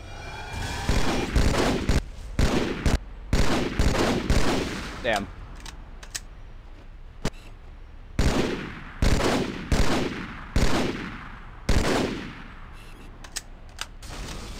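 Enemy gunfire in Halo arrives as loud, repeated bursts of rapid shots, broken by short pauses, with a player talking in between.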